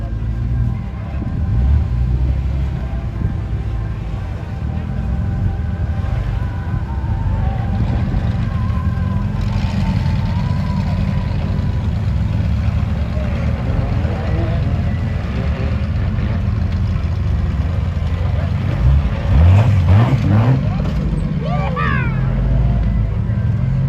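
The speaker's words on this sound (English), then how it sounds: "going to the throttle just a little bit as that rear end kicks sideways, keeps it rubber side down" Rock crawler off-road vehicle at a Werock competition in Cedar City, Utah, its engine rumbling steadily and given a little throttle as the rear end slides sideways, with a commentator talking over it.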